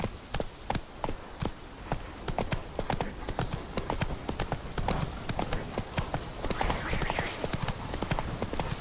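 Roach, the horse in The Witcher 3 video game, gallops with rapid, steady hoofbeats that keep a continuous rhythm throughout, while a player talks over the game sound.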